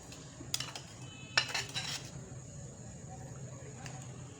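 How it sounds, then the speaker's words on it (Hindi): Chicken pieces go into roasted stock in a pot, giving a few close clinks and knocks of a metal utensil against the pot, then a quiet simmering background. "अब यखनी में मैं सबसे पहले चिकन डालूंगी"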